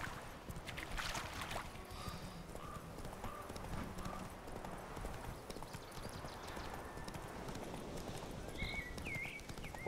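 Hooves of the horse Roach in The Witcher 3, a steady faint clip-clop of walking or trotting across the whole stretch, with occasional soft voice in the background.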